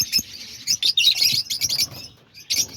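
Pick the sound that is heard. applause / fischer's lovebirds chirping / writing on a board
fischer's lovebirds chirping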